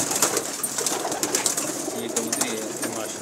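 Many pigeons coo steadily in a loft, a dense overlapping chorus of soft murmuring calls with chirpy bursts, close and continuous, with a faint voice in the background.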